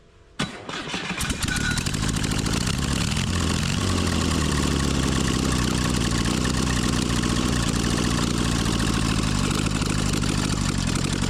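A rebuilt air-cooled classic VW Beetle engine fires up and settles into a steady, loud idle, its even low rumble running close and alone with no voices.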